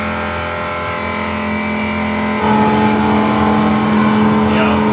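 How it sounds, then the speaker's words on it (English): A video game car engine roars steadily at 200 miles an hour, then jumps louder and higher in pitch partway through, a continuous close droning whine. "now we're going at 200 miles an hour"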